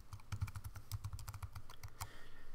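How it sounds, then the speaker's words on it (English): Quick, close keystrokes tapping out a password on a computer keyboard while setting up a Raspberry Pi, a rapid uneven run of light clicks. "Now I've typed it in"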